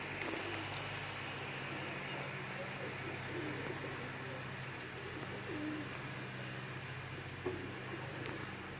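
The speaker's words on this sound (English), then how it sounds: "He's a show-off pigeon." A show-off pigeon coos softly among other pigeons in a loft, low repeated calls under a steady hum of background noise, with occasional faint ticks.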